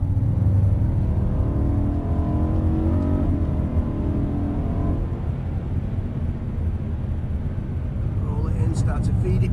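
A race car engine on a circuit drones steadily and loudly as power is fed back on after a corner, with a coaching voice talking over the continuous engine noise.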